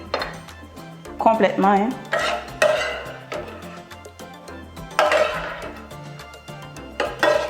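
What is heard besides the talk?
fork stirring a mixture in a bowl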